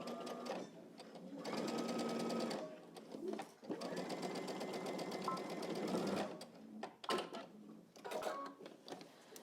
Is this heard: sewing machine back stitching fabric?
yes